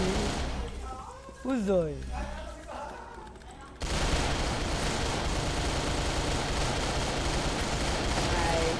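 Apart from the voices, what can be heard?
gunfire in the video game CrossFire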